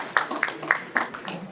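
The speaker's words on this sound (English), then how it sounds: "Round of applause for Miss Kanye" A conference audience applauds a speaker being welcomed to the stage, giving a brief, sparse patter of separate claps in a hall.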